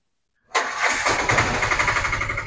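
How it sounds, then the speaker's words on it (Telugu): An Ape auto-rickshaw engine cranks over after a brief silence and catches, settling into a close, loud, rhythmic chugging idle. "ఓకే రైట్ బండి స్టార్ట్ అయింది."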